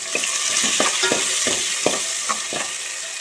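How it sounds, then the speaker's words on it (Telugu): Chopped green chillies and a large onion sizzle in hot oil in a pan, with a steady frying hiss broken by rhythmic scraping as they are stirred several times. "ఒక పెద్ద సైజు ఉల్లిపాయ ఇవి మొత్తం బాగా ఫ్రై అవ్వాలి"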